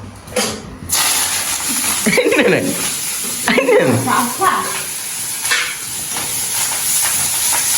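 Drumstick curry cooking in a pan in a Jaffna kitchen, a loud continuous sizzle and steamy hiss with stirring scrapes, while people talk over it.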